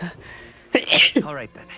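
A single sharp sneeze bursts out near the mic in the middle of a casual game-playing session, with someone speaking briefly before and after it.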